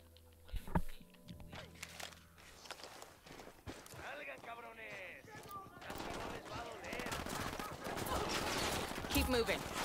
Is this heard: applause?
no